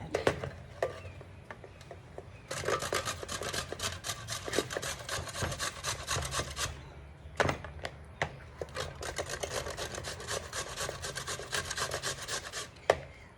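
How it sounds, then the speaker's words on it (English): Papaya is grated by hand in steady, rapid rasping strokes close up, running in long bursts with a couple of brief pauses, and no one speaks. "So if you can see, this is how I'm grating it"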